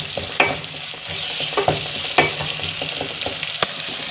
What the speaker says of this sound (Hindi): टमाटर को थोड़ा सा चम्मच की मदद से मैश कर लेंगे।